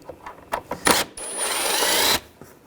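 A T30 socket tool turning a screw loose on a 2010-2017 Chevrolet Equinox engine bay panel, with a few short clicks followed by a steady, close mechanical whirring for about a second, then silence.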